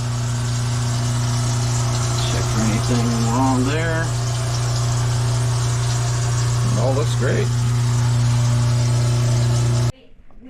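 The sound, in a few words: kitchen garbage disposal running with water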